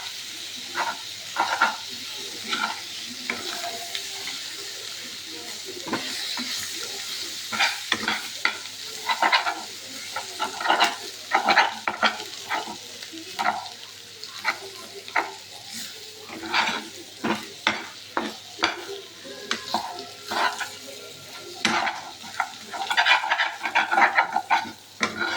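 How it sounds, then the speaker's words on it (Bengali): Steady stirring and scraping in a pan on a gas stove while egg cooks, irregular clinking strokes over a soft sizzle, some bursts closely clustered, with no talk. "এটা আমি একটুখানি মিশিয়ে নিই ভালো করে।"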